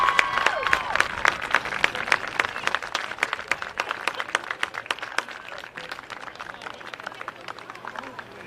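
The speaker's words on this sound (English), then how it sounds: "Please give a round of applause for your 2021 Senior Monarch." A crowd at a girls' varsity high school lacrosse game applauds a senior player, with sharp scattered claps and some cheering that carry on steadily and gradually thin out.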